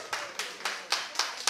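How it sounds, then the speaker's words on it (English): A few hands clapping slowly at an Atlanta Southern Soul Sunday show: six separate claps spaced evenly, moderately loud and close, with no crowd roar behind them. "Can I have a round of applause and welcome the queen to the stage?"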